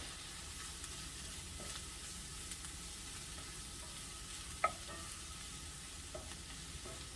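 Delicate yucca flowers fry in a pan with a quiet, steady sizzle, broken by a few small pops and one sharper crackle, heard alone without talk.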